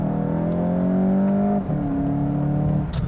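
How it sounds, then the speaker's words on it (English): A loud, steady synthesized engine hum played through the speakers inside a 2019 Volkswagen GTI, with a droning tone, pitch dropping slightly as if shifting gears. "There's just too much fake noise that's being synthesized in."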